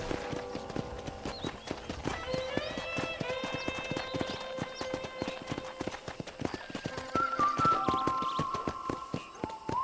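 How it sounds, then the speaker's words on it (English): Horse hooves clip-clop in a steady, even rhythm on a ranch in Red Dead Redemption, with soft tonal sounds and a brief whinny-like call mixed in. "I picked out a fine horse for you."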